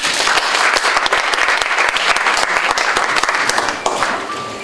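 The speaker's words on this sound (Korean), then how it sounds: "박수로 환영해 주시기 바랍니다" An audience claps warmly at a 2017 job committee launch ceremony in a hall, with dense, continuous applause that holds steady for several seconds and then tapers off at the end.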